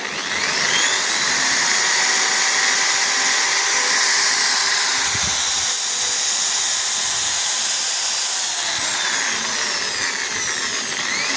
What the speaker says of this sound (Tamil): பின்னாடி வந்து நம்ம இந்த ட்ரில்லை லோட் பண்ணியிருக்கேன்